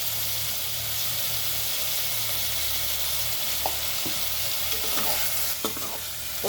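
Ivy gourd with turmeric frying over a low flame gives a steady, even sizzle throughout, broken now and then by soft clicks of a spatula being stirred through the pan.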